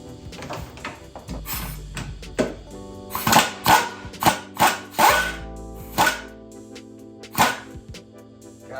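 Impact gun working a bolt out from inside a Mustang fender well during clutch replacement, heard as a string of sharp, loud bursts and hits, some spaced and some clustered, over faint shop background.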